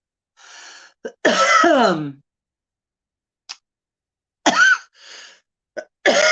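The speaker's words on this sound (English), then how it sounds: "Now I'm coughing." Several harsh coughs, one long and raspy, then shorter bursts with quiet gaps between, close to the microphone.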